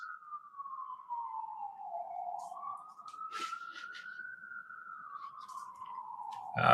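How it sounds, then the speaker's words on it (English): A wailing siren sweeps down and back up in pitch, holding steady and loud across the whole stretch, with faint background noise beneath. "There comes the ambulance."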